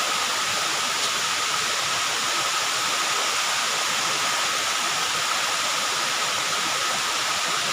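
Engkanto Falls pours in a steady, dense roar of falling water, close and unbroken, with no voices over it.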